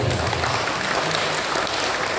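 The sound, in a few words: applause from congregation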